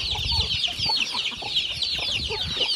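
Hens on a small rural farm cluck steadily in overlapping bursts, with fowl calls layered over constant background chatter and no human voice.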